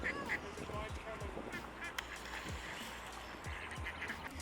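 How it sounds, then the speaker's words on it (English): Ducks quack repeatedly near water, several short honking calls scattered through a few seconds amid faint background noise and distant voices. "Oh yeah, there was some baby ducks too."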